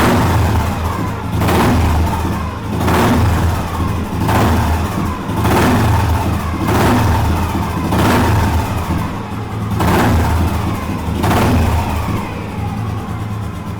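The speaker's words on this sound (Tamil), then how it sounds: "நான் இப்போ வெஹிக்கிளை ஸ்டார்ட் பண்ணி காமிக்கிறேன் பாருங்கள். பின்னாடி வந்து சவுண்டை பாருங்க." The engine of a restored vintage deluxe vehicle runs with loud, rhythmic revving pulses, about eight surges rising and falling at a steady pace over a low engine rumble, close and with no voices.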